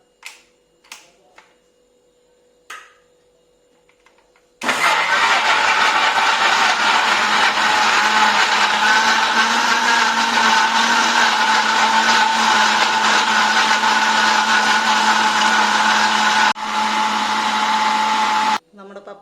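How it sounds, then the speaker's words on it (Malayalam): A blender purees papaya for juice, starting after a few light clicks and knocks, then running as a loud, steady whirring roar for about fourteen seconds before stopping abruptly. "ഇനി നമുക്കിത് നന്നായി അടിച്ചെടുക്കാം"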